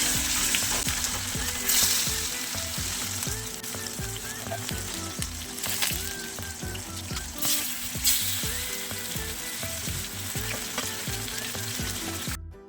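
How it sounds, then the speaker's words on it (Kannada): Mackerel frying in hot oil for a spicy Mangalore-style fish fry: a loud, continuous close sizzle and crackle that holds steady throughout, with no talking. "ಎಣ್ಣೆ ಕಾದಿದೆ, ಮೀನು ಹಾಕ್ತಾ ಇದ್ದೀನಿ ನಾನು."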